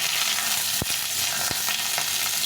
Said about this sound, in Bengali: আলুগুলোকে ভালো করে ভেজে নিতে হবে